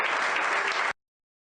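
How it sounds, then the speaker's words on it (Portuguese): An audience breaks into steady, fairly quiet applause on a news broadcast, the clapping running evenly for under a second before cutting off abruptly into silence. "Um forte aplauso para o colega Geoffrey Weaver."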